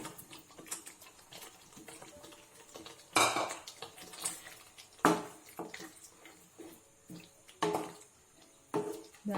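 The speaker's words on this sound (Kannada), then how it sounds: "ಮೊಟ್ಟೆ ಮತ್ತು ಆಲೂಗಡ್ಡೆ ಹಾಕ್ತಿದ್ದೀನಿ." Boiled eggs and potatoes going into an egg curry in a pan, with scattered clanks of a metal spoon against cookware, several sharp knocks over quiet scraping and faint stirring in a home kitchen.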